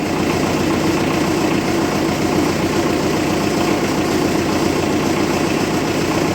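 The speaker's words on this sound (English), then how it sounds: "it says let it idle and pump till nothing else comes out." A 1958 Oliver 550 diesel tractor engine idles steadily, a loud, continuous low rumble with an even mechanical chug and vibration throughout, and no voices.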